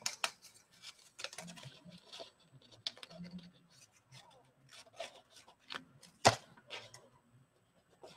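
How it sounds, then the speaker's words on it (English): Scissors snip through designer series paper during cardmaking, a run of short, crisp, irregular cuts and rustles at close range, fairly quiet, with no talk. "Oh, I need to sharpen my scissors."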